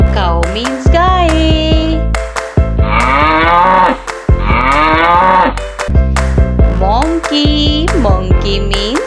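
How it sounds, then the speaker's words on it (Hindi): Cattle moo loudly and close by in several long, drawn-out calls with short gaps between them. The lowing rises and falls in pitch and sounds strong and full throughout, with no voices over it. "Cow means guy."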